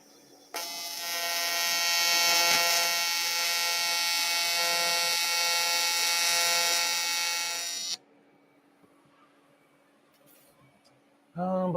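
TIG-style arc welding on an aluminum tool box, touching up an overcut spot: a steady, loud buzzing hum with a harmonic whine runs about seven seconds, then cuts off to near silence.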